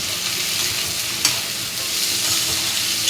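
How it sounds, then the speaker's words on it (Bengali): Tomato and chilli go into ginger and garlic already frying in a pan, giving a close, steady sizzle with a sharp scrape or clatter partway through. "আমার আদা রসুনটা ভাজা হয়ে গেছে, এরপর আমি দিয়ে দেব টমেটোটা আর লঙ্কা"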